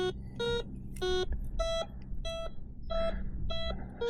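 An OMMO MD-7011 budget metal detector beeps over a buried quarter in dirt, a series of about eight sharp electronic tones repeating roughly every half second, close and clear over low outdoor background hum.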